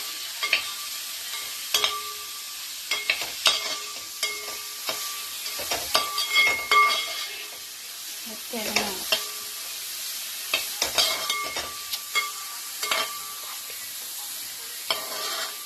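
Chicken with salt and turmeric powder is stirred in a pan for chicken perattu, with spatula scrapes and knocks against the pan repeating in irregular bursts over a soft sizzle, close and clear.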